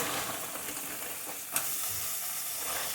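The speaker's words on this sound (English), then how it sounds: "Put them in my pan with my butter." Frozen onions hit brown butter in a hot pan, giving a steady, close sizzle and hiss throughout with a brief sharp crackle midway.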